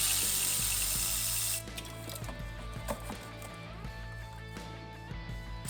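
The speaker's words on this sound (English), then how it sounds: "I loosen the front spark plug in every cylinder." A ratchet loosens spark plugs during an engine cam install, ticking in close, light, uneven clicks over a steady background hum that drops in level after the first couple of seconds.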